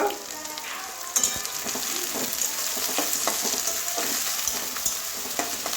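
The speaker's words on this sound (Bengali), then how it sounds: "পেঁয়াজগুলো কষিয়ে নেব কাঁচা গন্ধ যাওয়া পর্যন্ত।" Chopped onions frying in a pan for a dhaniya chicken dish, a continuous close sizzle with scattered crackles and spatter pops, plus a few scraping stirs.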